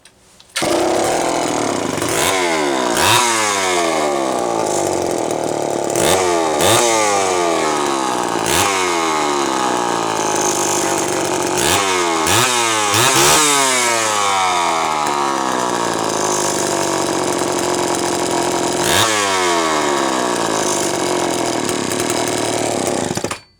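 A Terry-built Homelite chainsaw running loud and close, its two-stroke engine revving up and down repeatedly in sharp bursts and falling back between them, poorly tuned for the fuel mix and elevation.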